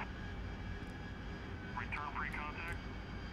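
AV-8B Harrier jet engine in DCS during night air-to-air refueling, a steady loud roar with brief wavering tones from engine turbulence, heard under talk over the radio.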